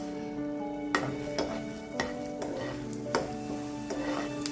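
Dry red chillies and coriander seeds roasting in a pan for a Chettinad-style fish curry, with a steady low sizzle broken by several sharp stirring scrapes and clinks at regular intervals, close up and without talk.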